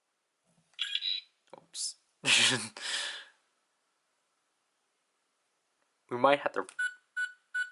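A Fourteenth Doctor sonic screwdriver toy gives four short, evenly spaced electronic beeps close up at the end, after bursts of speech and handling noise.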